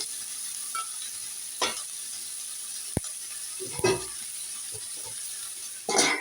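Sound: dried fish frying and sizzling in a pan

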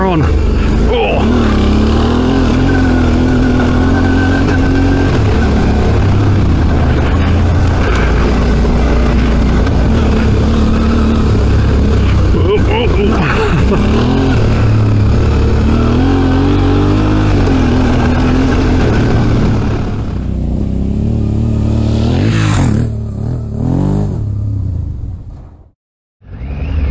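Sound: adventure motorcycle revving through sand, Suzuki V-Strom 650

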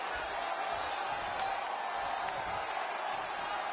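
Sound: crowd cheering in WWE 2K20 video game

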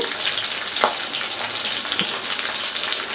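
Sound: green and dried red chilies frying in hot oil

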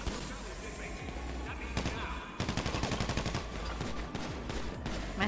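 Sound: gunfire in GTA V video game

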